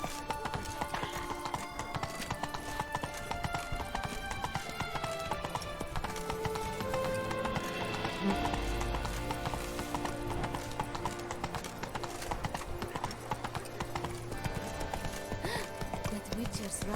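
Roach, Geralt's horse in The Witcher 3: Wild Hunt, gallops with a steady, loud clip-clop of hooves under game music, and a brief whinny rises midway. Voices talk over parts of it.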